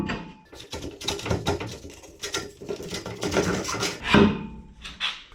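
Wooden mast piece being fitted on a SCAMP sailboat build, with a series of close scraping, rubbing and knocking wood-on-wood sounds in irregular bursts, fairly quiet, without talk.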